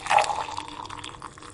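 A drink being poured into a glass indoors, a short close liquid splash and gurgle that starts strongly and then trails off into softer trickling.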